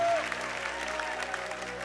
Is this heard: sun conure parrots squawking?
no